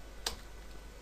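One sharp key click from a computer keyboard Enter key, close and fairly faint over a quiet room hum.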